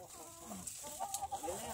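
A few soft chicken clucks sound close by, mixed with a brief spoken voice and some background noise.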